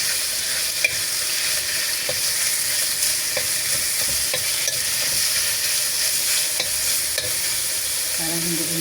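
Meat sizzles steadily in hot oil in a pan, with faint scraping and tapping of stirring scattered through the continuous fry.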